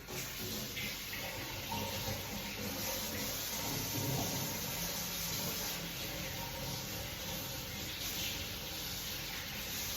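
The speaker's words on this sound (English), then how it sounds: "I'll just wash my hands." Hands being washed under a running kitchen tap, a steady close rush of water with faint splashing that continues evenly throughout with no talking.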